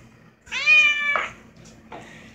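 A cat gives one drawn-out, tonal meow, close and clear, followed by a shorter, fainter second call against a quiet room, no talking.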